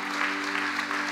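An audience at an evening miracle service claps for five people standing at the front, the applause steady and close over a sustained organ-like musical chord.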